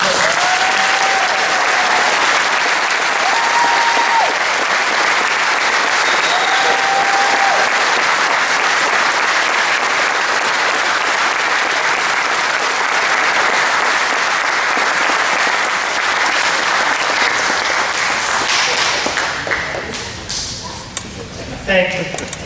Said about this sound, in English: give a round of applause to this group